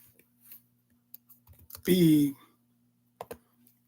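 Scattered clicks of typing on a computer keyboard come in short bursts, and a brief voice cuts in partway through.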